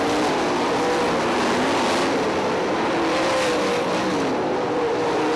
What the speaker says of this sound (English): Second place, crossing the line right there, a full half lap behind the race leader.